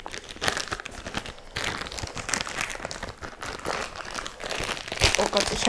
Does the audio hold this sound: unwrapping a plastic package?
yes